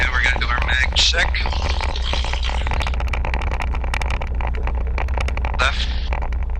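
A Cessna 172 piston engine runs at steady power during a magneto check, a constant low throbbing drone with slight pitch shifts, heard close through the cabin, with someone talking over it intermittently.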